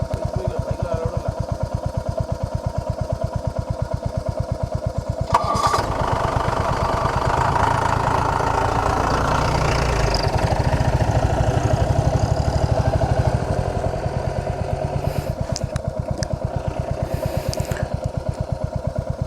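A motorcycle engine idles steadily near a forest checkpoint at Mudumalai in Tamil Nadu, its low, even putter continuing throughout, growing busier midway as other noise rises, with faint talk in the background.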